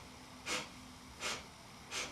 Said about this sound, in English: First I exhale, then I do the 4 sniffs